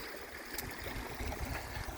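Ozark Mountain creek water flows along the Ozark Highlands Trail as a soft, continuous gurgle and trickle, close by and fairly faint, with no voices.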